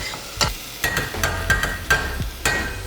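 Onions fry in a pot for lentil soup, giving a low sizzle broken by regular scraping and clinking as a spoon stirs them, about six strokes in quick rhythm, close and clear with no talk.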